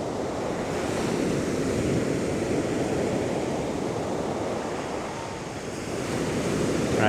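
Ocean surf breaks on a beach during surf fishing, a loud, continuous wash of waves with wind noise rumbling across the microphone and no talk.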